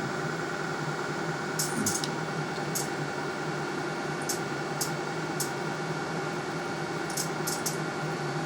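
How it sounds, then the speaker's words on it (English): A steady electrical buzz and hum from 1 amp carbon arcs inside a tank drones throughout, with scattered sharp crackling snaps of arcing popping in at irregular moments. "You can actually hear that outside the tank and the magnetic fields these 1 amp arcs generate."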